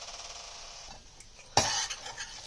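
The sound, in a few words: spoon stirring besan frying in oil in a kadai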